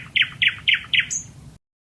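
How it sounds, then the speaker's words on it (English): A male nightingale sings four quick, bright, evenly spaced chirping notes, then a short higher whistle, clear and close before abrupt silence. "only male nightingales sing"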